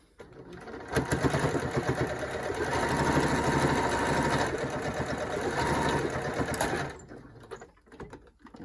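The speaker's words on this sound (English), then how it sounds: "We're going to lower our presser foot, and we're just going to stitch to the bottom of this pleat." A sewing machine stitches down a pleat on a fabric face mask, running steadily for about six seconds with a close, even whirring hum before stopping.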